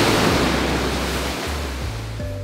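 A waterfall on a walk near Arthur's Pass, New Zealand, gives a steady, loud broadband rush of falling water, continuous throughout with a low hum underneath.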